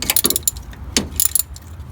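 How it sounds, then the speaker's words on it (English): A ratchet clicks in short bursts as the water pump bolts on a 1984-2001 Jeep Cherokee XJ are cross tightened. It is close and fairly loud, with a few quick ratcheting strokes and pauses between them, and no talk. "So I'm cross tightening the bolts on the pump."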